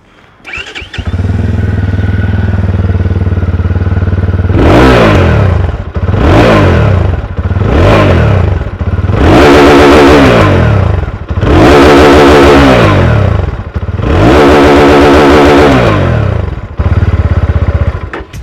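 UM Renegade Commando motorcycle with its dB killer removed, starting up and idling loudly before a run of six or seven hard revs that rise and fall, each burst separated by a brief drop back to idle.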